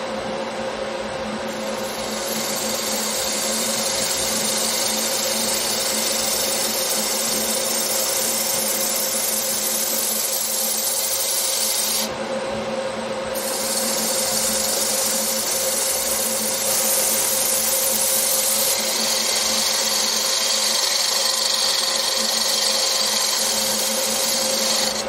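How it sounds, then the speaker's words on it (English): Dust collector running steadily in a woodturning workshop where a green wood bowl is being finished, a loud continuous hum with a stable tonal drone, briefly shifting in its upper hiss midway. "Dust collection. Could be noisy."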